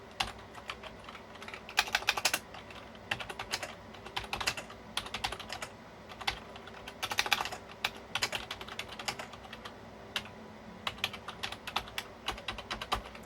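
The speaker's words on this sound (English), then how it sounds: "I'll have to test the keyboard, and yeah, let's try and test it." Fingers type on a restored 27-year-old IBM KB-9828 computer keyboard, producing quiet, close clacking keystrokes in irregular bursts with brief pauses between them.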